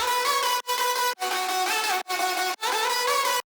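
Chopped vocal samples processed with formant shifting and saturation sound as a handful of longer, bright, buzzy sung fragments separated by abrupt silences, loud and close, in a liquid drum and bass production.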